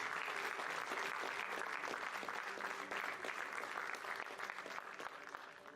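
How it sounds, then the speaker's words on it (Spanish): Church congregation applauding, a steady, full wash of many hands clapping heard at a distance, lasting several seconds and tapering slightly at the end. "Hay a quien le aplaudimos fuerte a Jesucristo."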